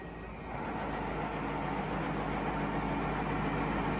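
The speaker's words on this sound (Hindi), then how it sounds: "अभी टेबल फीड में क्लॉकवाइज रोटेट कर रही है." Steady, loud machine hum and drone of a TOS W100A horizontal boring machine as its table rotates clockwise in feed, continuous and unbroken throughout with no talk.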